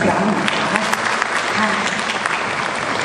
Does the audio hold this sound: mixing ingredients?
no